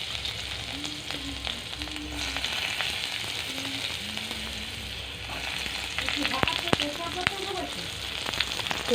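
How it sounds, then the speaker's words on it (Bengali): Chopped garlic sizzles and crackles steadily in hot oil in a pan, a close continuous frying hiss with a few sharper pops, while a voice talks faintly at times. "রসুনটা আগে দিলাম তেলের মধ্যে,"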